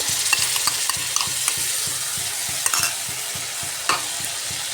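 Potato and egg curry frying in a pan just after tomato paste goes in, a steady close sizzle with regular spoon-stirring scrapes repeating throughout, no voices.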